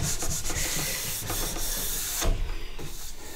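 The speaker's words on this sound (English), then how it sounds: "scrape that bit of wax off." A plastic scraper rasps along a snowboard base to strip off excess wax, giving steady close scraping strokes with rhythmic bursts and a brief harder pass near the end.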